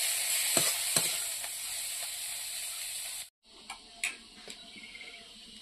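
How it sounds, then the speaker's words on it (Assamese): Drumstick flowers fry in a pan with a bright, continuous close-up sizzle and scattered stirring taps, broken by a brief drop-out partway before the softer sizzling resumes. "ছজনাৰ ফুলটোতো ভাজি হৈ গ'ল"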